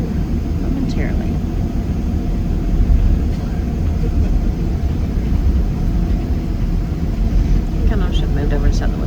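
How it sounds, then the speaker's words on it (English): An airliner on the runway at takeoff, heard from inside the cabin as a loud, steady, low roar and rumble that fills the whole stretch, with faint voices under it. "We are on our runway. Should be up in the air momentarily."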